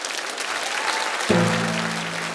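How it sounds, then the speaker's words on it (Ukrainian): A comedy improv show audience bursts into loud, sustained applause, and a steady tone or musical sting enters partway through under the clapping. "Ваші оплески"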